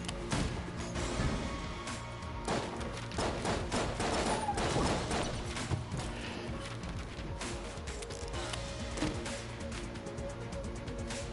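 An SMG machine pistol fires in rapid, steady bursts in the video game Enter the Gungeon, continuous and fairly quiet, with crackling impacts layered throughout.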